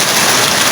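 Heavy rain pounds on a corrugated iron roof, a loud, dense, unbroken hiss and patter that fills the short moment without any voices.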